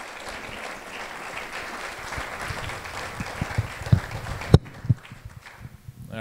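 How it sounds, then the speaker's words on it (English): A meeting audience applauds two presenters in a mall setting: steady dense crowd clapping that thins into scattered, louder individual claps and footstep-like thumps before stopping abruptly. "how about a nice round of applause for Kurt Hagen and Dan Jasper?"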